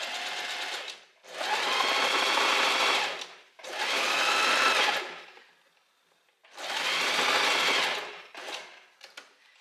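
A sewing machine runs a long straight seam with a stitch length of 4 on a thin-strapped, open-back little black dress with elastic. It whirs loudly up close in three sustained runs separated by short silences, with no talking.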